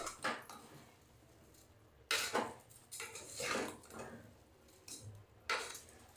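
Soybean pulao with rice and salt being stirred in a pressure cooker, a spoon scraping and clinking against the metal pot in several separate bursts with quiet gaps between.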